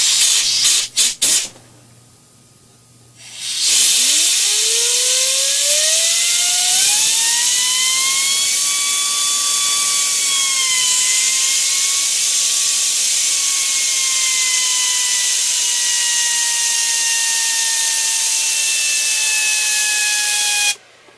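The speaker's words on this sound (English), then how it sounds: "let's go hit this with a lot of compressed air" Compressed air blasts into an air purifier after a few short bursts, then a loud steady hiss with a rising, whistling tone holds for about seventeen seconds before cutting off abruptly.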